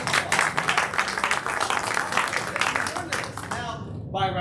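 Audience at an improv comedy show claps for several seconds, a dense, fairly loud patter that thins out toward the end before a voice begins to speak.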